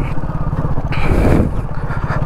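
A motorbike rolls slowly over a small mound on a rough road with the clutch untouched, its engine putting out a steady low rhythmic chug, loud and close, swelling briefly as it climbs.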